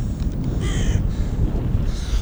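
Several crows caw in short harsh bursts over steady low park rumble in Kensington Gardens, the calls fairly close and loud, with no one talking.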